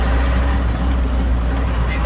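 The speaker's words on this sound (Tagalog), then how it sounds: "traffic na rin to" Steady road traffic noise near a Philippine expressway, a dense low rumble of passing cars and trucks that holds constant, with someone talking over it.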